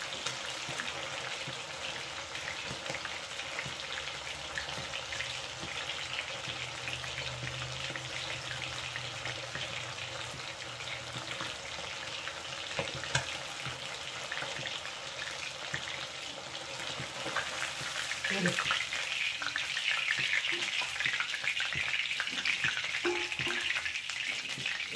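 Fish kebabs fry on a slow flame in home-made masala, giving a constant crackling sizzle with popping oil that grows a little louder toward the end, alone without voices.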